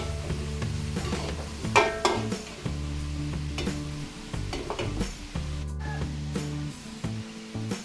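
Ground meat stir-fries in a hot pan for a Filipino birthday feast, with a continuous close sizzle broken by scraping and clanks of a spatula against the pan.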